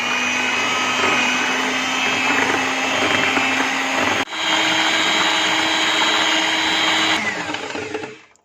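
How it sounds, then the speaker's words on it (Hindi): An electric mixer beats chocolate cake batter with vanilla essence in a bowl, a steady loud whirring drone that runs on evenly, drops out for an instant midway, then winds down at the end. "2 मिनट तक इसे मज़ीद बीट कर लेंगे।"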